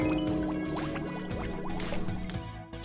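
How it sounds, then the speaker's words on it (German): Water running and gurgling, with bubbly, dripping and filling sounds close by, steady for a few seconds. "dass das Geräusch vom fließenden Wasser eine interessante Wirkung hat"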